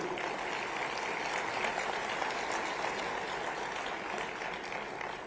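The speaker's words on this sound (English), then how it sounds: "I don't think this applause was justifying the wow word." An audience at a public event in Gandhinagar claps continuously in a dense, even roar of applause that holds at a fairly loud level for several seconds without letting up.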